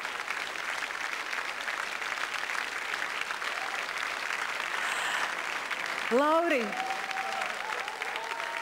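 A dance-show audience gives steady, sustained applause after a rumba by Lauris Reiniks and Aleksandra Kurusova, the dense clapping filling the whole stretch while a presenter speaks over it briefly near the end.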